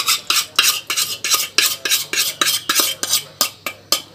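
Beef tongue cake batter with dissolved baking soda being stirred in a bowl, a steady series of about fifteen sharp scraping strokes of utensil against the bowl, close and fairly loud, with no voices.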